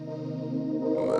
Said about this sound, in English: We have reverb.